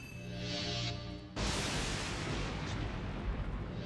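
A bombing explosion from an enemy bomber in the online game Pandora Saga hits suddenly after a tonal lead-in, then rolls on as a dense, sustained roar of blast rumble.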